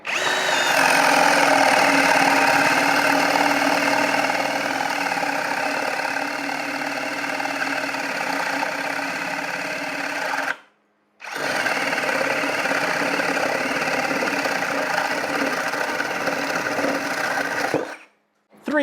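Ryobi ONE+ HP 18V brushless cordless compact drill boring with a 1.5-inch paddle bit, a loud steady whine and grind running continuously, cutting out briefly partway through before resuming, then stopping again near the end.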